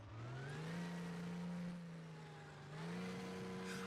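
A simulated engine on a custom-built vehicle drivetrain in Garry's Mod hums and revs steadily, its pitch rising, dipping slightly, then climbing again, moderately loud and continuous with no talking.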